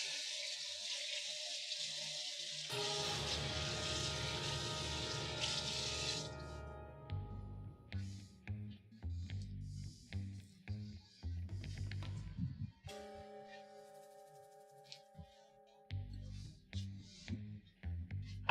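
Soaked rice getting a rinse as tap water pours steadily into a bowl, followed by intermittent sloshing and swishing of the grains in water, with short quiet pauses between.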